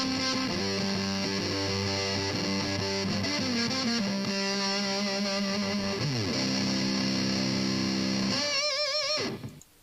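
A harsh, buzzy distorted square-wave tone from an op-amp comparator circuit, shifting through stepped pitches, loud and continuous, cutting off abruptly at the end.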